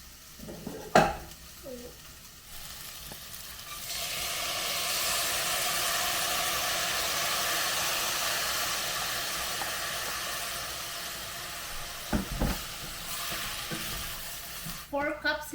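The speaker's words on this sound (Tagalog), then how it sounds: "So, ang gagawin ko, lagay ko na lang siguro sa pan." Food fries in a pan, a broad steady sizzle that swells up after a few seconds and holds, with a few clanks of cookware at the start and near the end.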